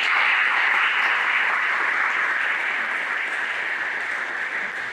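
Audience applause for award nominees at the Tip Colley Awards 2022, a dense, steady wash of clapping from a full crowd that holds strong for several seconds and tapers slightly.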